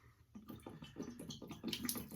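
Water pours from a shaving scuttle cup into a sink in a short burst of splashing and dribbling, a quiet, close sequence of irregular gurgles and drips lasting about two seconds.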